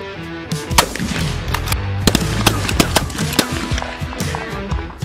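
Several sharp shotgun blasts crack out in quick succession during a dove hunt in Yuma, Arizona. The shots are close and loud, with hunters' voices faintly audible between them.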